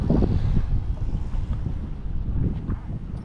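Steady gusting wind rumbles across the microphone at the municipal marina in Sault Ste. Marie, with a low wash of water and faint boat sounds beneath.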